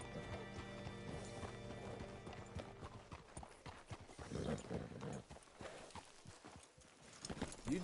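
A horse's hooves clip-clop in the Red Dead video game, an irregular run of close hoof strikes that picks up after a few seconds over a sustained musical and ambient bed, with no speech.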